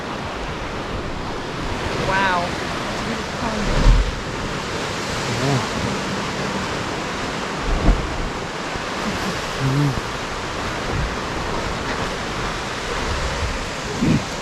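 Waves surge and churn at Devil's Churn on the Oregon coast: a steady, close, broadband roar of surf with wind buffeting, swelling in a few brief bursts, while a voice briefly exclaims.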